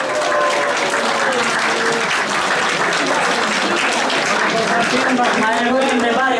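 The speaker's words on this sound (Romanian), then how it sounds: "Haideți să primim cu aplauze" Loud, sustained applause from a large audience at a seniors' evening at a hotel in Iași, Romania, dense clapping filling the room with some crowd noise underneath.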